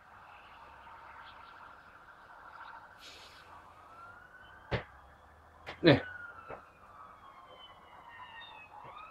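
A police car siren wails faintly in the distance, a steady drawn-out tone under quiet room noise, broken by a few sharp close clicks and a brief spoken word.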